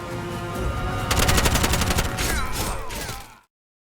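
Rapid gunfire from the first-person shooter Bright Memory: Infinite rattles in a loud, dense burst of automatic shots for about two seconds, mixed with game effects, then cuts off abruptly.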